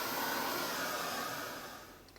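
A hair dryer blows steadily on freshly painted craft pieces, a close, continuous whooshing hum that gradually fades as it switches off.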